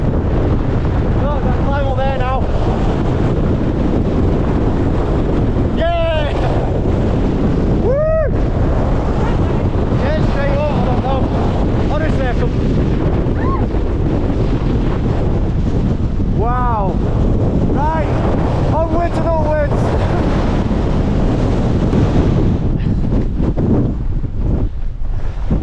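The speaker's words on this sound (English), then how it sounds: "It is so windy." Gale-force wind roars continuously across the Langdales fells in the Lake District, loud and unbroken throughout, with voices faintly breaking through at times.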